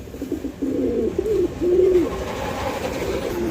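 A big-sized pair of pigeons coos close by. Several distinct, rolling low calls come in a row and stand out clearly over a quiet background hum.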